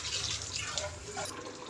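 Water poured from a jug into a pot of country-style chicken sambar makes a continuous close splashing gush that ends in a brief louder splash.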